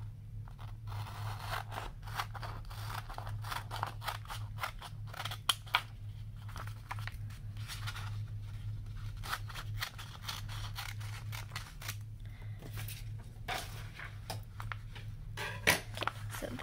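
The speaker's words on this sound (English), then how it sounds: "So I'll just line it up here and cut it out." Scissors cut white paper to size for a photo-frame backing in a DIY memo-board craft, making a run of quiet, close, irregular snips and crisp paper crunches with no speech.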